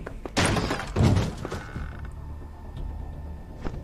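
A wooden door creaks open in The Wolf Among Us video game, a close, drawn-out groan with a couple of heavier thumps early on, then trailing off into quiet room tone.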